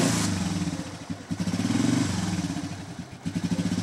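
A motorcycle engine fires after a kick start and revs in rough, pulsing bursts, loud and close, with a brief dip before it picks up again.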